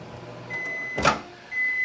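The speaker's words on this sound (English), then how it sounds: "Let's see where we are on the microwave." A microwave oven heating tea hums steadily with a faint tone, then a short louder burst and a high beep near the end, all fairly quiet with no talking.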